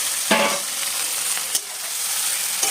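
Hilsa fish frying in hot oil with mustard and poppy seed pastes, a steady close sizzle broken by a few sharp stirring clatters, no voices.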